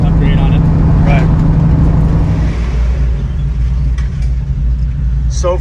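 A classic Steve McQueen Bullitt Mustang tribute car with a 4-speed gearbox idles close by, its loud, steady low rumble holding smooth and even, with a few faint higher sounds briefly on top.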